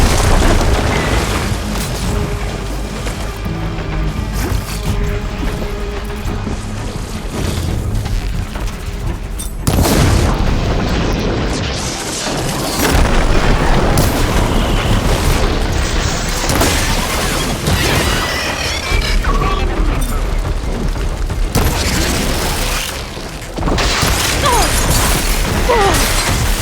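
Heavy booms and crashing rumble as boulders smash onto machines during a mudslide battle in Horizon Forbidden West, loud and continuous with layered impacts, debris and combat noise throughout.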